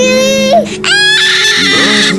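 A human voice imitates a crying baby in a loud, close wail with rising and falling whimpering tones, broken by a brief pause before the crying resumes.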